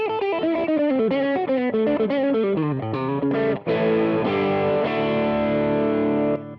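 Distorted electric guitar, a Fender American Deluxe Telecaster, plays a run of chords and notes, loud and sustained, ending on a ringing held chord.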